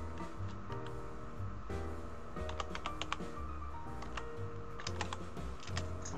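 Quick, irregular clicking of keys on a computer keyboard, close and clear over a low hum, with fast bursts of typing and brief pauses between them.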